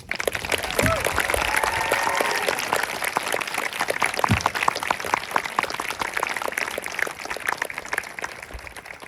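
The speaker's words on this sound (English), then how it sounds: "Let's give up a big round of applause." Loud, sustained applause from a crowd at a school year-end ceremony, dense clapping throughout with a few voices and cheers mixed in.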